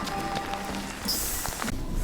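Rain falls steadily outside at a Portuguese train platform, a continuous soft hiss with scattered drop taps and a brief louder gust of spray.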